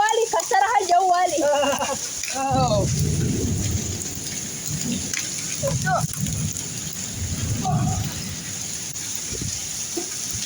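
Rain falls steadily with low rumbles of thunder throughout, while a voice speaks briefly at the start over the downpour.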